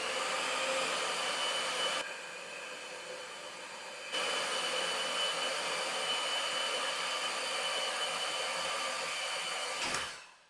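An ANBULL electric chain winch hoist lifting a load runs as a steady close motor whine with a broad airy hum, dipping briefly in level partway through, then winding down and stopping near the end; no talking.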